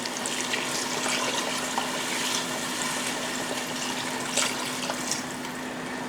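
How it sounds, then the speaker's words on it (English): Water pours steadily into a pot of pork adobo, a continuous broadband splashing and trickling rush that stays close and even throughout, with no talking. "Then pour enough water just to cover the meat."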